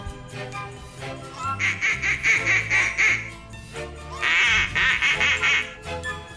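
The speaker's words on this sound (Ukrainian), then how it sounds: "це качка." A duck quacks in two loud bursts of rapid, repeated quacks separated by a short pause, close and clear with no speech.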